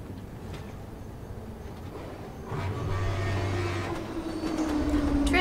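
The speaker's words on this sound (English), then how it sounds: "Trains!" Train rolling past in the video game Tales from the Borderlands, starting as a low rumble and swelling into a loud rattling rush with a rising tonal whine, no voices over it.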